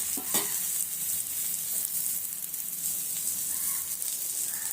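Prawn vadai fry in oil in a pan, giving a steady close sizzle and crackle with occasional stirring scrapes.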